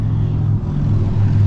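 Idling engine of a 1991 Jeep Comanche Eliminator race truck, a steady loud low rumble throughout with a brief dip midway, no talking.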